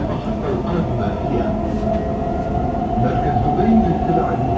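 Dubai Metro train running between stations on the line toward Expo 2020, a loud, continuous rumble and whine of the carriage in motion heard from inside, with voices present over the ride noise.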